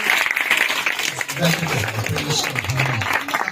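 Dense applause from a church congregation at a Christian sermon, with a voice talking over the steady clapping.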